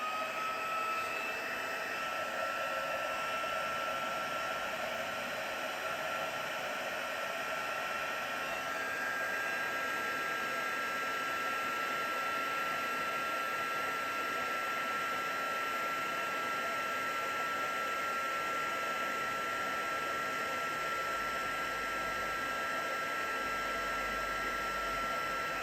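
Heat tool melting embossing powder on a handmade greeting card, a steady close blowing whir that runs evenly throughout without pause.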